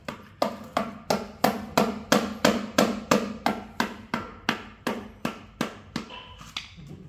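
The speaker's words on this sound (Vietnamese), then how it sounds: "Búa cao su nó cà tưng cà tưng cà tưng cà tưng gõ mà đó." A rubber mallet taps steadily on a concrete hexagonal stool mold, about fifteen even, loud, close knocks in a regular rhythm, slowing and thinning out at the end.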